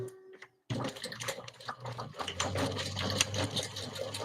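A sewing machine runs close by, stitching a HexaTote bag in a quick steady mechanical whir after a brief pause, with light rattling clicks over the hum.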